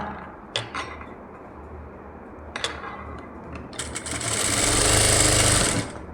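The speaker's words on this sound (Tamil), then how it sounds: "எப்படி தையல் போடணும் அப்படின்னு பார்த்தீங்கன்னா இங்கே ஸ்டார்ட் பண்ணிக்கோங்க" A sewing machine stitching a cup dart on a blouse, with a few short bursts of stitching and then a steady, louder run of rapid needle clatter close by; no voices.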